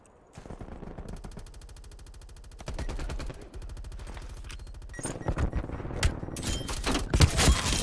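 Rapid automatic gunfire from a gun in Call of Duty Black Ops Cold War multiplayer, loud, dense bursts that grow heavier and more chaotic toward the end, with booming impacts layered in.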